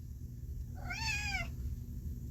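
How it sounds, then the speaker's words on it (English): A cat lets out a single drawn-out, whiny meow close by, rising then falling, over a low steady background hum. "my cat's being whiny this morning."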